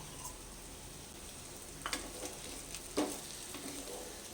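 Leftover rice mixture frying in white oil in a pan, a faint, steady sizzle with a couple of brief scraping stirs.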